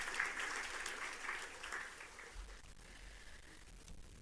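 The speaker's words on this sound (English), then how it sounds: "one more huge round of applause to welcome all our esteemed guests" An audience at a Universal Brotherhood Day ceremony applauds to welcome esteemed guests, a steady wash of clapping held at a moderate, fairly distant level throughout.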